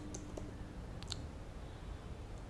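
Computer keyboard typing in short, sparse bursts of light clicks over a quiet background, a few separate keystrokes close to the microphone.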